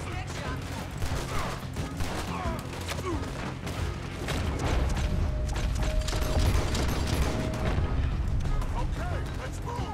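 Gunfire in Red Dead Redemption 2, a dense run of sharp shots and mechanical clatter over a busy game soundscape with voices throughout.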